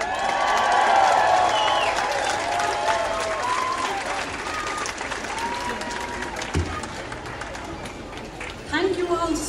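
Rally crowd at the 2011 All Ireland Rally for Life in Dublin applauding and cheering to welcome a speaker, loud sustained clapping that fades slightly over time with chatter and a voice beneath.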